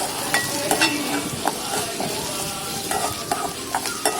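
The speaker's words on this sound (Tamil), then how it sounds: "கடுகும் கருவேப்பிலையும் பொரிஞ்சதும் ஒரு வெங்காயம் நறுக்கி வச்சுருக்கதை போட்டு நல்லா வதக்கலாம்." Chopped onion sautéing in hot oil with popped mustard seeds and curry leaves for a Tirunelveli-style tomato kadamba, a steady crackling sizzle punctuated by sharp scrapes and clinks of a spoon stirring the pan.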